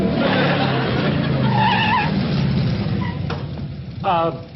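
A motorcycle engine roars close by with a rising whine, fading slightly before a brief higher whoop near the end.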